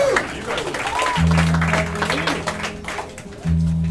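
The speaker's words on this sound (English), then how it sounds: "Give yourselves a round of applause." Audience applause at an acoustic concert in an intimate café, a moderate patter of clapping with voices in the room and a sustained low guitar-like tone sounding underneath.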